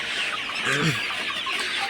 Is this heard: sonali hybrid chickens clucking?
yes